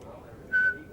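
A man whistles a short sustained tune phrase, a single clear bright tone held for about a quarter second over a faint background of studio chatter.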